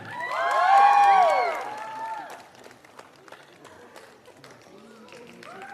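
Applause and crowd noise for the reigning Miss Teen Meghalaya 2023 as she is invited on stage at a pageant, swelling to a loud burst, then fading under bright music and scattered claps.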